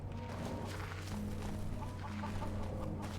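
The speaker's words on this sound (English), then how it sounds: "And we got chickens." Chickens clucking around a farm in the video game Skyrim, steady soft clucks over a constant ambient game bed, mid-distance with no talk.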